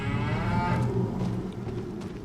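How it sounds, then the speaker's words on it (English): Cows in the Farming Simulator 25 game moo loudly in a long, close, drawn-out call, which fades toward the end over a low background hum, with no speech. "You got more cows over here."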